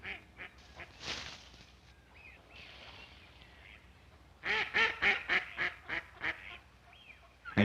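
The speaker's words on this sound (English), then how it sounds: "Ducks live in the lily pad pond in summer." Ducks quacking on a summer lily pad pond, a few scattered calls at first, then a rapid, loud run of repeated quacks from close by.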